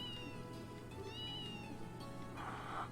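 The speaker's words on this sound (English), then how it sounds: "It's a kitty." A cat in the video game Trails in the Sky gives several short, high meows over a low, steady game background, followed by a brief soft rustle.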